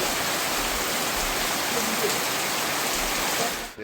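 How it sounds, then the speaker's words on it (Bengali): Heavy monsoon rain pours over the Sundarbans mangrove forest in a steady, dense, unbroken hiss, loud and close, with no voices, before cutting off abruptly at the end. "বর্ষার বৃষ্টি একেবারেই অন্যরকম। যেন আকাশ ফুটো হয়ে যায়, একটানা বৃষ্টি ঝরতে থাকে ঘন্টার পর ঘন্টা,"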